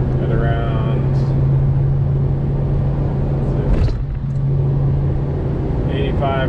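A 1994 Mitsubishi Bravo GT Turbo 4WD drones steadily in fifth gear at around 5000 RPM and 85 km/h, a constant loud in-cabin engine hum with road rumble throughout and no words spoken.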